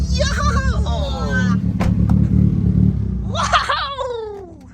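Cars at a meetup including a Subaru and Mitsubishi Evos, engine rumble running steadily throughout with a rev building mid-clip, while people talk and shout excitedly over it nearby.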